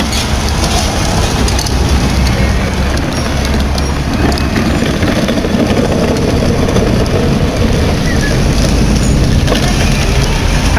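A car engine runs close by in a street in Tecate, a loud, steady rumble with rattling and road noise filling the whole stretch.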